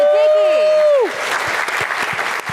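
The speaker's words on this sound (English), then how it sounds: "Round of applause for tzatziki." After a brief tonal sound at the start, a room full of people breaks into applause at a live cooking event at the Streicker Center, a steady patter of clapping that carries on to the end.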